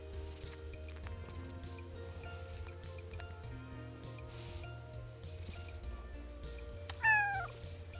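A pet cat gives a single short meow near the end, clear and close, over quiet game music in the background.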